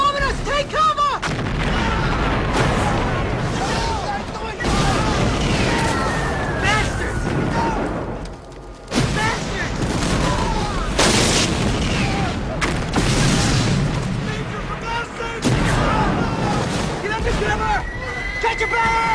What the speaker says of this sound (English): Our guys are bombing us! Take cover!